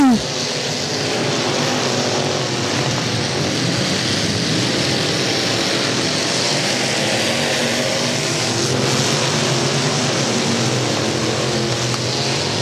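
BMOD dirt track race cars roar together at Central Missouri Speedway, a steady loud wall of engine noise running three wide through the turn, with faint talk underneath.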